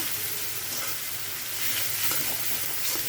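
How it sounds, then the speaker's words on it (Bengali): Oil sizzling steadily in a pan with salt added, the first stage of a chicken and potato curry, a continuous close hiss with a slight swell near the end. "একটু ভেজে নেব।"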